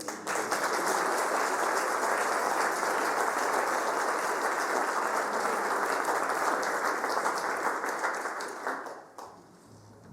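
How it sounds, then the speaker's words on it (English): An audience at an author interview event applauds to welcome the writer of 'The God Conundrum', a dense, sustained wash of clapping lasting about nine seconds before it fades away. "I think that'd be the loudest applause I get this evening"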